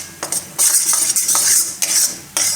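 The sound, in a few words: stirring and roasting water chestnut flour in ghee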